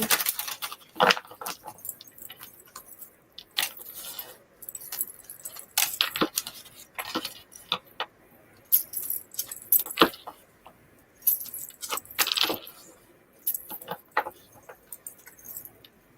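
Tarot cards are shuffled close up, a steady run of crisp riffles, flicks and slaps with brief pauses between bursts.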